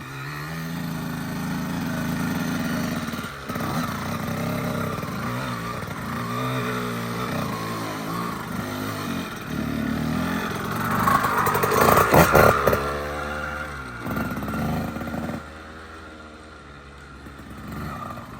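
An 85cc two-stroke dirt bike ridden in a cramped backyard, its engine droning steadily nearby with revving swells, peaking around the middle before easing off, with no talk.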